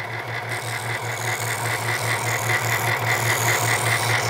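A Carbatec SS-400H scroll saw runs steadily, giving a loud continuous motor hum with a fast rhythmic buzz of the reciprocating blade, close up and with no voices.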